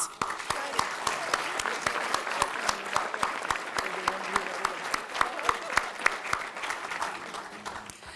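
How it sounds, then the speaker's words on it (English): Applause from a banquet audience at a college athletics Hall of Fame dinner: many hands clapping steadily in a large room, with sharp individual claps standing out over the continuous wash, at a moderate distance. "Please join me in leading a round of applause for these current Hall of Fame members and past award recipients."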